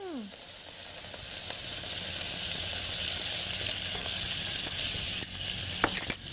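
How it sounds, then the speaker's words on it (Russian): Loud, continuous sizzling of tofu frying in a hot pan with rice wine and soybean paste, with a couple of scraping stirs near the end. "Затем продолжаем жарить"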